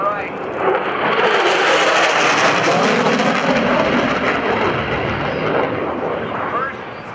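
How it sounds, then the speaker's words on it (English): An F-16 Viper jet fighter passes at the 2012 NAS Oceana airshow during a USAF Heritage Flight, a loud, sustained broadband roar that swells quickly and holds steady throughout, with a commentator's voice faintly beneath it. "Here comes the Viper from the right."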